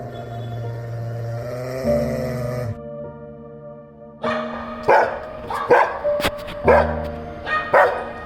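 Several dogs bark in a series of loud, close yaps and woofs, irregularly spaced, over a steady background hum.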